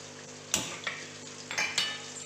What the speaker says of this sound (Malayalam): കടായി നല്ല ചൂടായതുകൊണ്ട് ബട്ടർ പെട്ടെന്ന് തന്നെ മെൽറ്റായിട്ടുണ്ട്